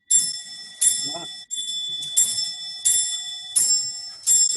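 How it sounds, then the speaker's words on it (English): A train bell rings in repeated bright, sustained strokes as a train passes, loud and steady, with people talking faintly underneath. "The bell. A train coming through."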